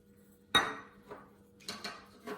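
Different flours being stirred together in a mixing bowl, a sharp clink of a utensil on the bowl followed by several lighter scraping knocks, close and distinct with no talk.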